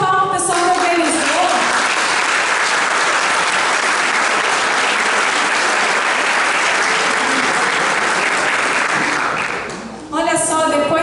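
A big crowd at a gospel praise event applauds the organizers, with loud sustained clapping and cheering that runs steadily for about ten seconds before fading, while a voice talks at the start and the end.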